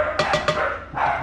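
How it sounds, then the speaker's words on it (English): A dog barks three times in quick succession, then gives a fourth longer bark after a short pause, fairly close and loud in a home kitchen. "those are my dogs again."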